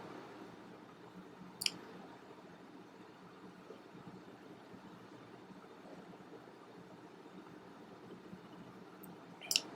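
A computer mouse gives two sharp, quiet clicks, one early and one near the end, against a faint steady hiss with no other sound.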